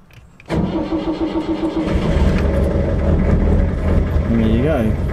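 A canal boat's diesel engine cranks and catches with a sudden loud start, then settles into a steady, close idle while a person talks over it.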